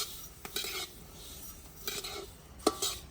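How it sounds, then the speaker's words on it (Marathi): Seeds being dry-roasted in a pan and stirred, with soft scraping and a few sharper clinks of a utensil against metal over a faint background hiss. "आपण आता ही हावरी भाजून घेऊया"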